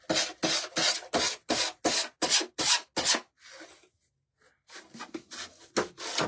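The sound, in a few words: sanding paper edges with sandpaper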